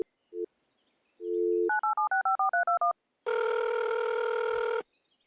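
Electronic telephone keypad tones from the Trash Day video game: a short beep, a longer steady tone, then a quick run of about eight dialing tones, followed by a louder sustained ringing or dial tone, all clean with no talk.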